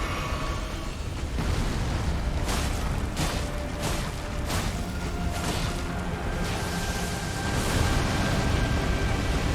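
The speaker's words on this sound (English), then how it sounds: "Yeah, so sometimes the explosion just gets you anyway." An explosion in Elden Ring during the Dragonlord Placidusax battle roars as a dense, continuous blast, with repeated bursts and crackles layered through nearly ten loud seconds.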